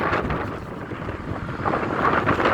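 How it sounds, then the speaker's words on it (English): Strong outdoor wind buffets the microphone in Lindsay, Ontario, a constant loud rumbling roar with gusty swells and no clear voice over it. "Probably won't be able to hear me much because of the wind."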